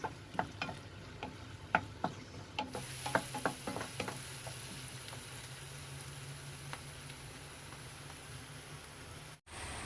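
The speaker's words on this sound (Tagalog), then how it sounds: "nagluluto ako ng spaghetti sauce" Spaghetti sauce with garlic and pepper cooking in a pan, heard as a soft steady sizzle with scattered clinks and scrapes of stirring in the first few seconds, then a quieter even simmer.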